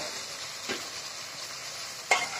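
Katla fish curry sizzles softly in a pan with ginger-cumin paste, a low steady frying hiss with two brief stirring scrapes, in a home kitchen.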